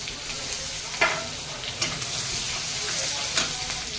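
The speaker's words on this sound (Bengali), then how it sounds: "প্রথমে আমি ফোড়ন দেবো একটা শুকনো লঙ্কা আর জিরে ফোড়ন দেবো" Dry red chili and cumin seeds sizzle in hot oil with a steady crackling hiss, broken by a few soft stirring scrapes.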